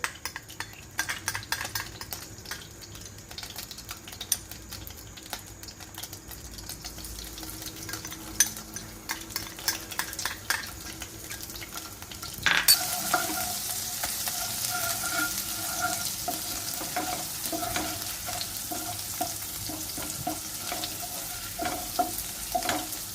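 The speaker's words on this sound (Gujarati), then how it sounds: "તેલ ગરમ થઈ જાય પછી આપણે અંદર આદુ લસણની પેસ્ટ નાખીશું" Ginger garlic paste frying in hot oil for restaurant-style hakka noodles, a steady close sizzle that jumps louder midway as the paste hits the pan, with scattered stirring scrapes and utensil clinks.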